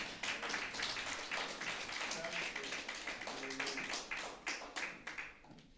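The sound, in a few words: applause for the pastor's wife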